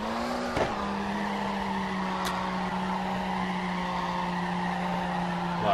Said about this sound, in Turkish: Biraz daha drift yapalım şimdi.